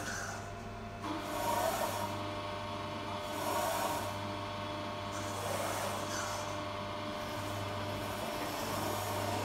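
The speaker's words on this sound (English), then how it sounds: "It's now going through a tapping cycle." A Bridgeport CNC milling machine under a Heidenhain TNC 151 A controller runs a tapping cycle: continuous low motor hum with gentle periodic swells of whirring, quiet and steady, no voices.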